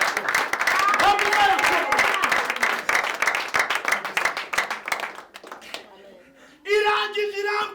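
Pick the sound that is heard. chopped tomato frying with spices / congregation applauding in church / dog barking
congregation applauding in church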